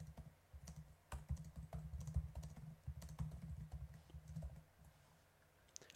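Fingers typing Java code on a computer keyboard, a quiet, close run of rapid uneven key clicks and taps in bursts, with no talking.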